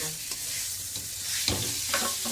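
Potatoes sautéing with spices in a pan, a continuous sizzle with a few scraping stirs of a spoon, close and steady.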